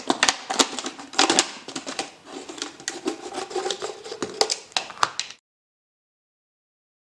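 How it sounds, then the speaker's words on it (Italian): Small scissors cutting a plastic bottle from the neck, a close series of irregular crisp snips and crackles for about five seconds, then near silence. "con delle forbicine semplicemente andare a tagliare, partendo dalla parte del colletto"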